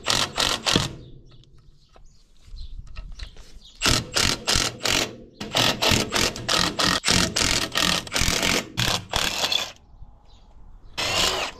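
Hand tools turning bolts into a slurry tanker vacuum pump during repair, a run of close, loud ratcheting bursts in a steady rhythm with short pauses between them.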